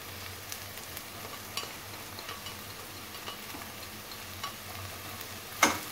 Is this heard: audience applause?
no